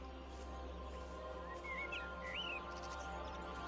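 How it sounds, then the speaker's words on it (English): Birds chirp in short, high warbling phrases in the video game Everybody's Gone To The Rapture. The calls are faint and sit over a low, steady hum of outdoor ambience. "listen, do you hear? The birds,"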